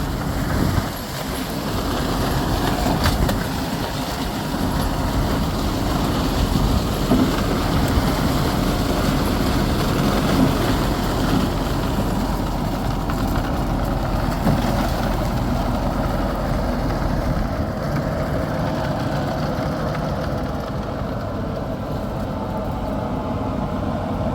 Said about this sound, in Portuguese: Vamos a ver um trator com o destroçador à frente